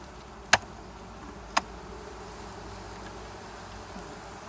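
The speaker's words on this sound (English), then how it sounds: "Now you have a jar of pissed off bees." Agitated honey bees buzz in a jar during a sugar shake mite check, a faint steady hum broken by two sharp clicks near the start.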